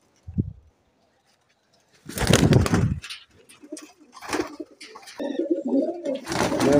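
Pigeons, a Teddy Golden Kamghar breed, coo in low, throaty bursts, several calls in a row with short pauses between them, close by and fairly loud.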